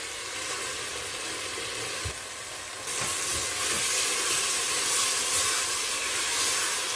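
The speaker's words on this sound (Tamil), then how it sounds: "இப்போ மசாலா சிக்கனுக்கெல்லாம் சேர்த்து உப்பு சேர்த்துடலாம் ஒரு ரெண்டு நிமிஷம் வதங்கட்டும்" Chicken with masala and salt sautéing in a pan gives a steady, loud sizzle and hiss that swells partway through, with a few soft stirring knocks and no talking.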